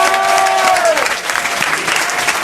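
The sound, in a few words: studio audience applause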